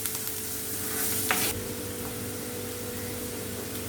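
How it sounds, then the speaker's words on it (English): Finely chopped onion sizzles in a pan as it is mixed, a steady hiss with a short spatter and a few spoon scrapes near the start, close and even, with no one talking. "Let the onions cook well and become brown in color"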